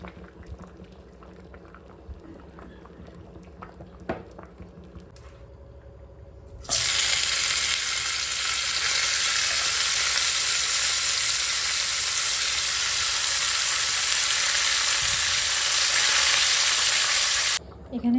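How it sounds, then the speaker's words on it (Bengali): Flat beans fry in a pan of hot oil for a simple khichuri lunch. After a quieter start, a loud, dense sizzle bursts in and holds steady for about eleven seconds before cutting off abruptly. "এখানে শিম ভাজা হয়ে গেছে"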